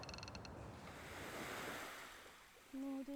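Ocean waves in the Maldives wash in with a soft, broad, rushing surf swell that rises and fades. A short tonal sound follows at the very end.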